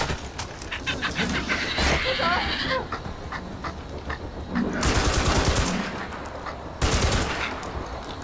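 Gunfire in the Far Cry 4 video game: rapid automatic bursts and loud shots crackle amid a busy, noisy game mix, with faint vocal sounds underneath.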